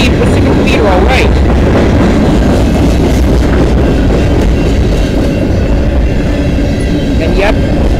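A Canadian Pacific-led freight train rumbles past close by on the Dundas Subdivision in London, Ontario, loud and continuous, with wheels clacking over rail joints and occasional metallic squeals; a voice speaks briefly under the noise.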